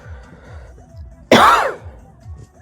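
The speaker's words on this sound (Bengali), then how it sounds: "আমার ঠান্ডা লেগে আছে, তার জন্য কাশি হচ্ছে।" A single harsh cough or throat-clearing burst from someone with a cold bursts out loud and close, outdoors near a dam, over faint background noise.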